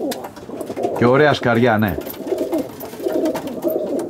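Show pigeons at a club gathering coo in a low, steady murmur beneath someone talking close by, with bird calls continuing through the background.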